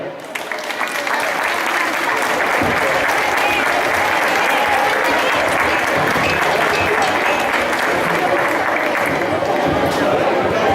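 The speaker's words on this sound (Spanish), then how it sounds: "Un fuerte aplauso para él" Loud, dense applause from a crowd at a church concert of Christmas carols in Linares de Mora, Teruel, sustained evenly throughout with faint chatter mixed in.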